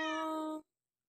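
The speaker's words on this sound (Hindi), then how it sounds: "बिल्ली म्याओ म्याओ" A single clear cat meow, close and fairly loud, lasting just over half a second before silence.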